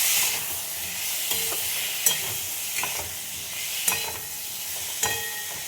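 Tomatoes and potatoes fry in a pan with a steady crackling sizzle, while a spoon scrapes and stirs through them in several sharp, close knocks and scrapes spaced a second or so apart.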